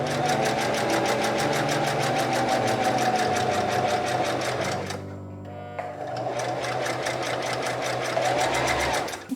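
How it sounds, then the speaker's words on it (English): A sewing machine runs a straight stitch along a skirt zipper made from bed sheets, its rapid needle chatter loud and close, pausing briefly midway before resuming at the same brisk rhythm. "we're going to take it over to our sewing machine and sew with a straight stitch all the way along the zipper"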